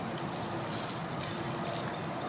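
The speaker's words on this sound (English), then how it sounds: "Let's just put some water in" Water pours in a steady, gushing stream into a planting hole in a garden, close by and continuous for a couple of seconds with no voices.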